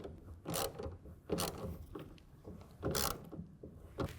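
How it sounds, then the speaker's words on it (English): A wrench ratchets as it tightens a rail clamp on a BAKFlip MX4 hard folding tonneau cover fitted to a Mitsubishi Triton, torqued to 10 foot-pounds: several short, close ratcheting bursts separated by brief pauses. "make sure everything's engaged square and tighten it down to 10 foot-pounds."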